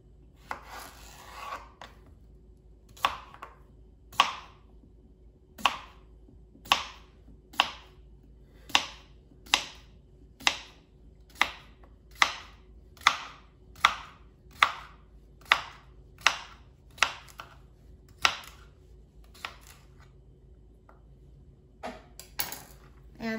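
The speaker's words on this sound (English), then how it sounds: "No need to peel a cucumber, just chop it into pieces." Cucumber being chopped into pieces on a cutting board for a Greek salad, with about fifteen crisp knife strikes in a steady, evenly spaced rhythm, close and clear with no talking.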